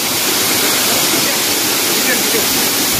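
Bhagirath waterfall at Vangani pours in a loud, steady roar of rushing water, broadband and unbroken from start to finish, with possible voices buried beneath it.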